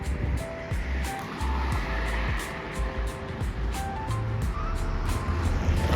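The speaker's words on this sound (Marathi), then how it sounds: "किती स्पीडनी गाड्या येतात बघा ना. काय स्पीड आहे गाड्यांना." Cars, buses and trucks rush past on the Mumbai-Pune Expressway, a steady close roar of traffic with repeated whooshing passes and engine hum layered throughout.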